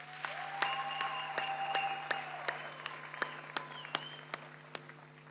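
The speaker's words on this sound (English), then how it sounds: "Can we give the staff a round of applause, please?" Applause for staff at a graduation ceremony, soft clapping with a few sharp distinct claps standing out, under a steady electrical hum and faint tonal sounds, heard without talk.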